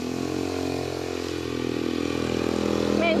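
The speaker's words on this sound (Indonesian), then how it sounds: "Ada motor lewat." A motorcycle engine drones steadily and loudly as it passes along a village road in Sukabumi, West Java, the noise swelling slightly toward the end.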